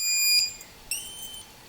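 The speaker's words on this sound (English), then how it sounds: "the reason it's beeping is because it doesn't have any signal" A high electronic beep that cuts off, then another short burst of beeping tone from a Tarot TL130H1 micro FPV race drone with no signal, fairly quiet with no talking.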